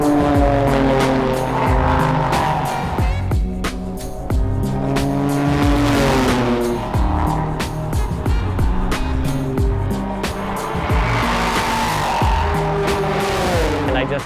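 The 2022 IMSA champion Acura ARX-05 prototype race car from Meyer Shank Racing laps Watkins Glen at speed, its loud engine wailing continuously with rising pitch sweeps and quick gear-shift breaks throughout.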